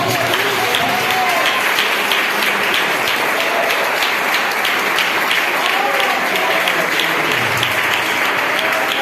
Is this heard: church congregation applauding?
yes